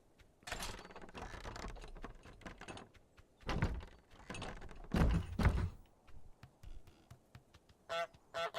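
Goose honks from Untitled Goose Game come in several bursts alongside thunks and clatter, loud and close, with no talking over them.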